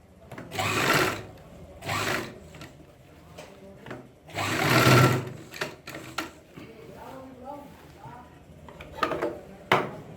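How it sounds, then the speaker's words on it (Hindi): A sewing machine stitches a seam on ladies' trousers with a side zip, running in several loud bursts of varying length separated by pauses. "तो आप इस पर सिलाई लगाएं सबसे पहले।"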